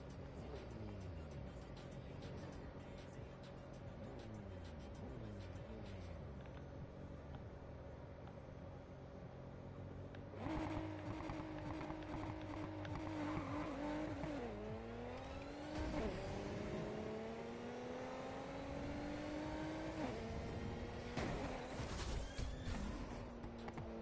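Drag-tuned car in Need for Speed Heat pulls hard under nitrous, the engine climbing through repeated rising gear sweeps, dropping at each shift and climbing again, loud and sustained over a continuous roar.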